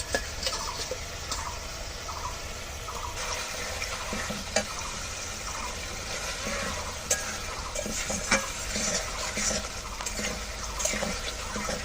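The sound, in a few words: potatoes added to sizzling spice paste, being stirred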